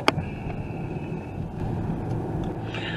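A small car rolls steadily along a quiet back road with a continuous low engine and tire rumble, a sharp click near the start and faint road noise throughout.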